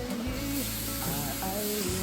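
Water is poured into a hot iron wok over a wood fire, where bull penis has been browning in rice wine for a Hunan-style dish. A steady, close sizzling hiss runs through the whole clip, with no talking.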